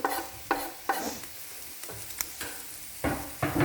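Chopped tomatoes frying in a pan for turkey biryani while a spoon stirs them, giving repeated scraping strokes over a steady sizzle, close and fairly loud, with no talking.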